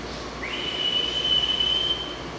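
A cutting torch flashes back, giving a sustained high-pitched whistle that rises in and holds for over a second over a rushing gas hiss, then cuts off.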